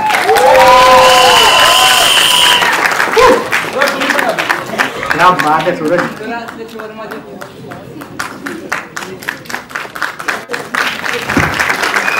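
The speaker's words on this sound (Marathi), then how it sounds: "एकदा जोरदार टाळ्या सूरज आणि त्याच्या बहिणींसाठी" An audience applauds and cheers loudly at a Marathi film event, with dense clapping that rises and stays steady while a voice briefly calls out over it.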